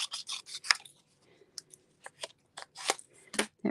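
Scissors snip through a piece of crafting material in a quick series of crisp close cuts, separated by short pauses and a faint paper rustle.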